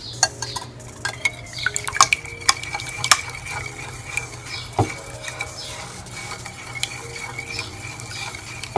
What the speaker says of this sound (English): we need to make sure we beat all the eggs thoroughly. Mix it right through, complete